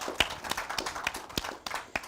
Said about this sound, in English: So a round of applause for her.